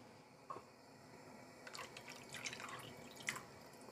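Water pours into a pomfret fish curry in a pan. A faint splash comes first, then a longer spell of trickling and splashing with a couple of brighter drops near the end, all fairly quiet.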